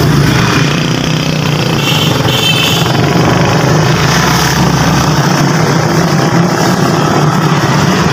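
Motorbike and car traffic on the GT Road at Mirpur Mathelo, a loud, constant engine drone and rumble filling the whole stretch with no speech.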